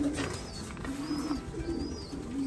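Racing pigeons coo near the flock loft, soft low repeated coos over a murmuring background, with a few thin higher chirps.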